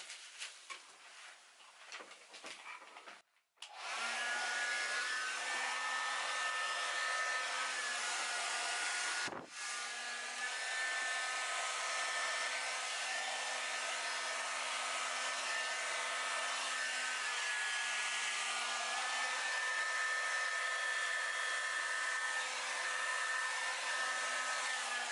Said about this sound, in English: here we go with the hair dryer again.